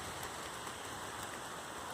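Heavy rain falls under a canopy of trees, a dense, continuous hiss of drops pattering on leaves and ground, even and unbroken with no voices.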